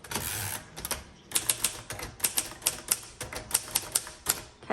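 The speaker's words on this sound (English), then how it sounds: "There's that bell." Typing on a 1958 Royal Quiet Deluxe manual typewriter: crisp, irregular key strikes in quick bursts, close-up and clear, with a carriage-type sweep near the start and no talk.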